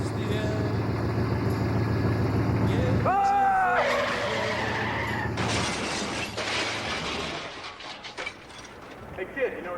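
Car crash sound effect in an amateur radio drama: a low engine drone, then a sharp screech of skidding tires, a loud impact and crunching, shattering debris tapering off over several seconds.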